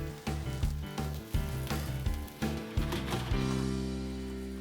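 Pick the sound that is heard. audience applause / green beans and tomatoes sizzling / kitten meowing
green beans and tomatoes sizzling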